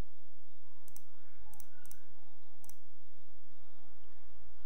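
Mouse clicks while choosing modules in a Unity Hub installer on Linux: four crisp, close clicks, two of them in quick succession, over a steady low hum with no speech.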